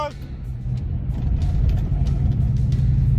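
A Ram TRX pickup truck pulls a trailer toward the listener, its low engine rumble growing steadily louder over a few seconds with faint background noise.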